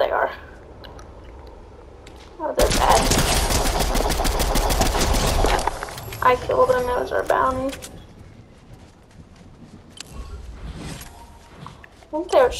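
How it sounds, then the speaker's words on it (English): Rapid, dense burst of automatic gunfire in a shooter game, loud and sustained for about three seconds, followed by scattered shorter crackles and sporadic shots with a voice murmuring at times. "I think they were shooting at someone"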